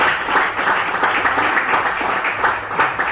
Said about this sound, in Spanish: vamos a dar un fuerte aplauso a nuestro Dios